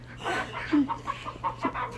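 A voice imitates a clucking hen, giving a quick run of short, nasal cluck-like bursts in an uneven rhythm, close and moderately loud over a steady low hum.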